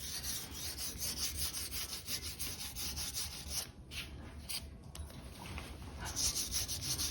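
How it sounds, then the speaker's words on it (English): Light sandpaper rubs back and forth across the wooden base of a Moog Minimoog keyboard, a soft, steady scratchy rasp in quick close strokes with a brief pause midway. "And then I'll just sand right here. Very lightly."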